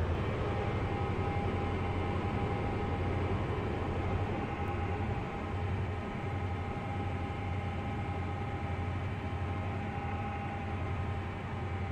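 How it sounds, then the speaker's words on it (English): A continuous, steady rumble and hum of a video game train approaching a platform at a station, with a faint tonal whine throughout and no clear change in loudness; no voices. "The train now approaching platform 8 terminates here."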